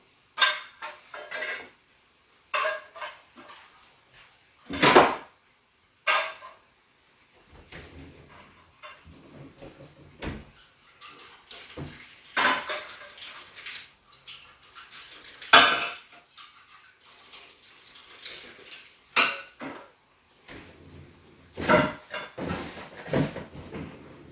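Canned tuna being stirred in a cooking pan, heard as intermittent scrapes and metallic clinks of a utensil against the pan, separated by quiet gaps, close and moderately loud, with no talking.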